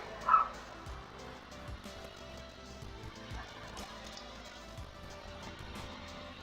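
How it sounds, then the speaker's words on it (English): Dogs bark and yip in the background, several short, fairly faint bursts scattered across a quiet indoor scene. "Oh my goodness, the doggies are barking."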